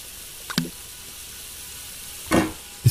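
A wet frying pan set on the stove in a cooking simulator game sizzles in two short hissing bursts separated by a quiet pause, with a third brief burst at the end.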